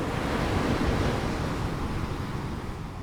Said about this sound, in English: the waves retreat, taking with it the sands